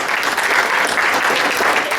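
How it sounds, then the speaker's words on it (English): A packed audience at a comedy hypnosis show for a high school post-prom in rural Nebraska applauds, with dense, steady clapping close by and no break for the full two seconds. "Give them a round of applause."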